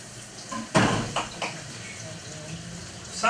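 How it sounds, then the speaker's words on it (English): Cilantro sprigs rinsed under a running tap, water splashing in short uneven bursts that swell and fade, with a louder gush near the start and no talking. "Rinse it."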